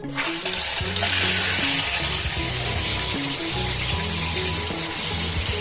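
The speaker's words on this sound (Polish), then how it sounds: "Weź się przepłucz prysznicem, proszę cię." A small plastic Littlest Pet Shop toy figure is rinsed under a running shower, with a steady hiss of spraying water and faint low clunks for several seconds.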